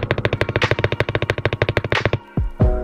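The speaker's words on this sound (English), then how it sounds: "you want to have the space bar balanced and no rattling, just like this" Rapid, even clacking of a keyboard space bar with tuned stabilizer wires being pressed over and over, close and crisp, ending with a few heavier thuds and a brief scrape.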